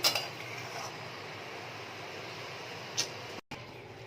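Soybean chunks in gravy are stirred in a pan, giving a continuous low bubbling hiss with a clink of spoon against metal at the start and another around three seconds, plus a brief dropout just after.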